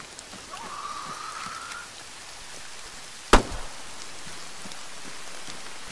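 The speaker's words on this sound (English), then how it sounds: "Now it's raining again." Rain falls steadily in the video game Arma 3, a constant soft hiss broken by a single sharp, loud crack partway through, with no one talking.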